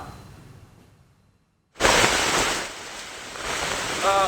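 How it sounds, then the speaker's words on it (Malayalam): After a brief quiet start, a sudden, dense roar of heavy rain in Idukki, Kerala, begins and continues loud and steady to the end. "ശക്തമായ മഴയാണ് ഇടുക്കി ജില്ലയിൽ നിലവിൽ എല്ലാ മേഖലകളിലും ഉള്ളത്"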